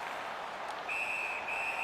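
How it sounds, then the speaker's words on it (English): A referee's whistle in the hockey video game NHL 19 blows a thin, sustained shrill tone over a steady crowd roar in the arena, sounding twice in close succession. "And he holds on, and the whistle stops play."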